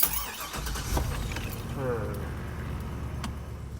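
A car's engine starts with a short crank, then runs and revs as the vehicle pulls away, with keys jangling and some rustling up close.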